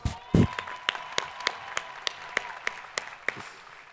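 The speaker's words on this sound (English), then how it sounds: "Big round of applause, please" Audience at a college commencement ceremony applauding, a burst of sharp claps settling into a sparse, regular run of individual hand claps echoing in a large space.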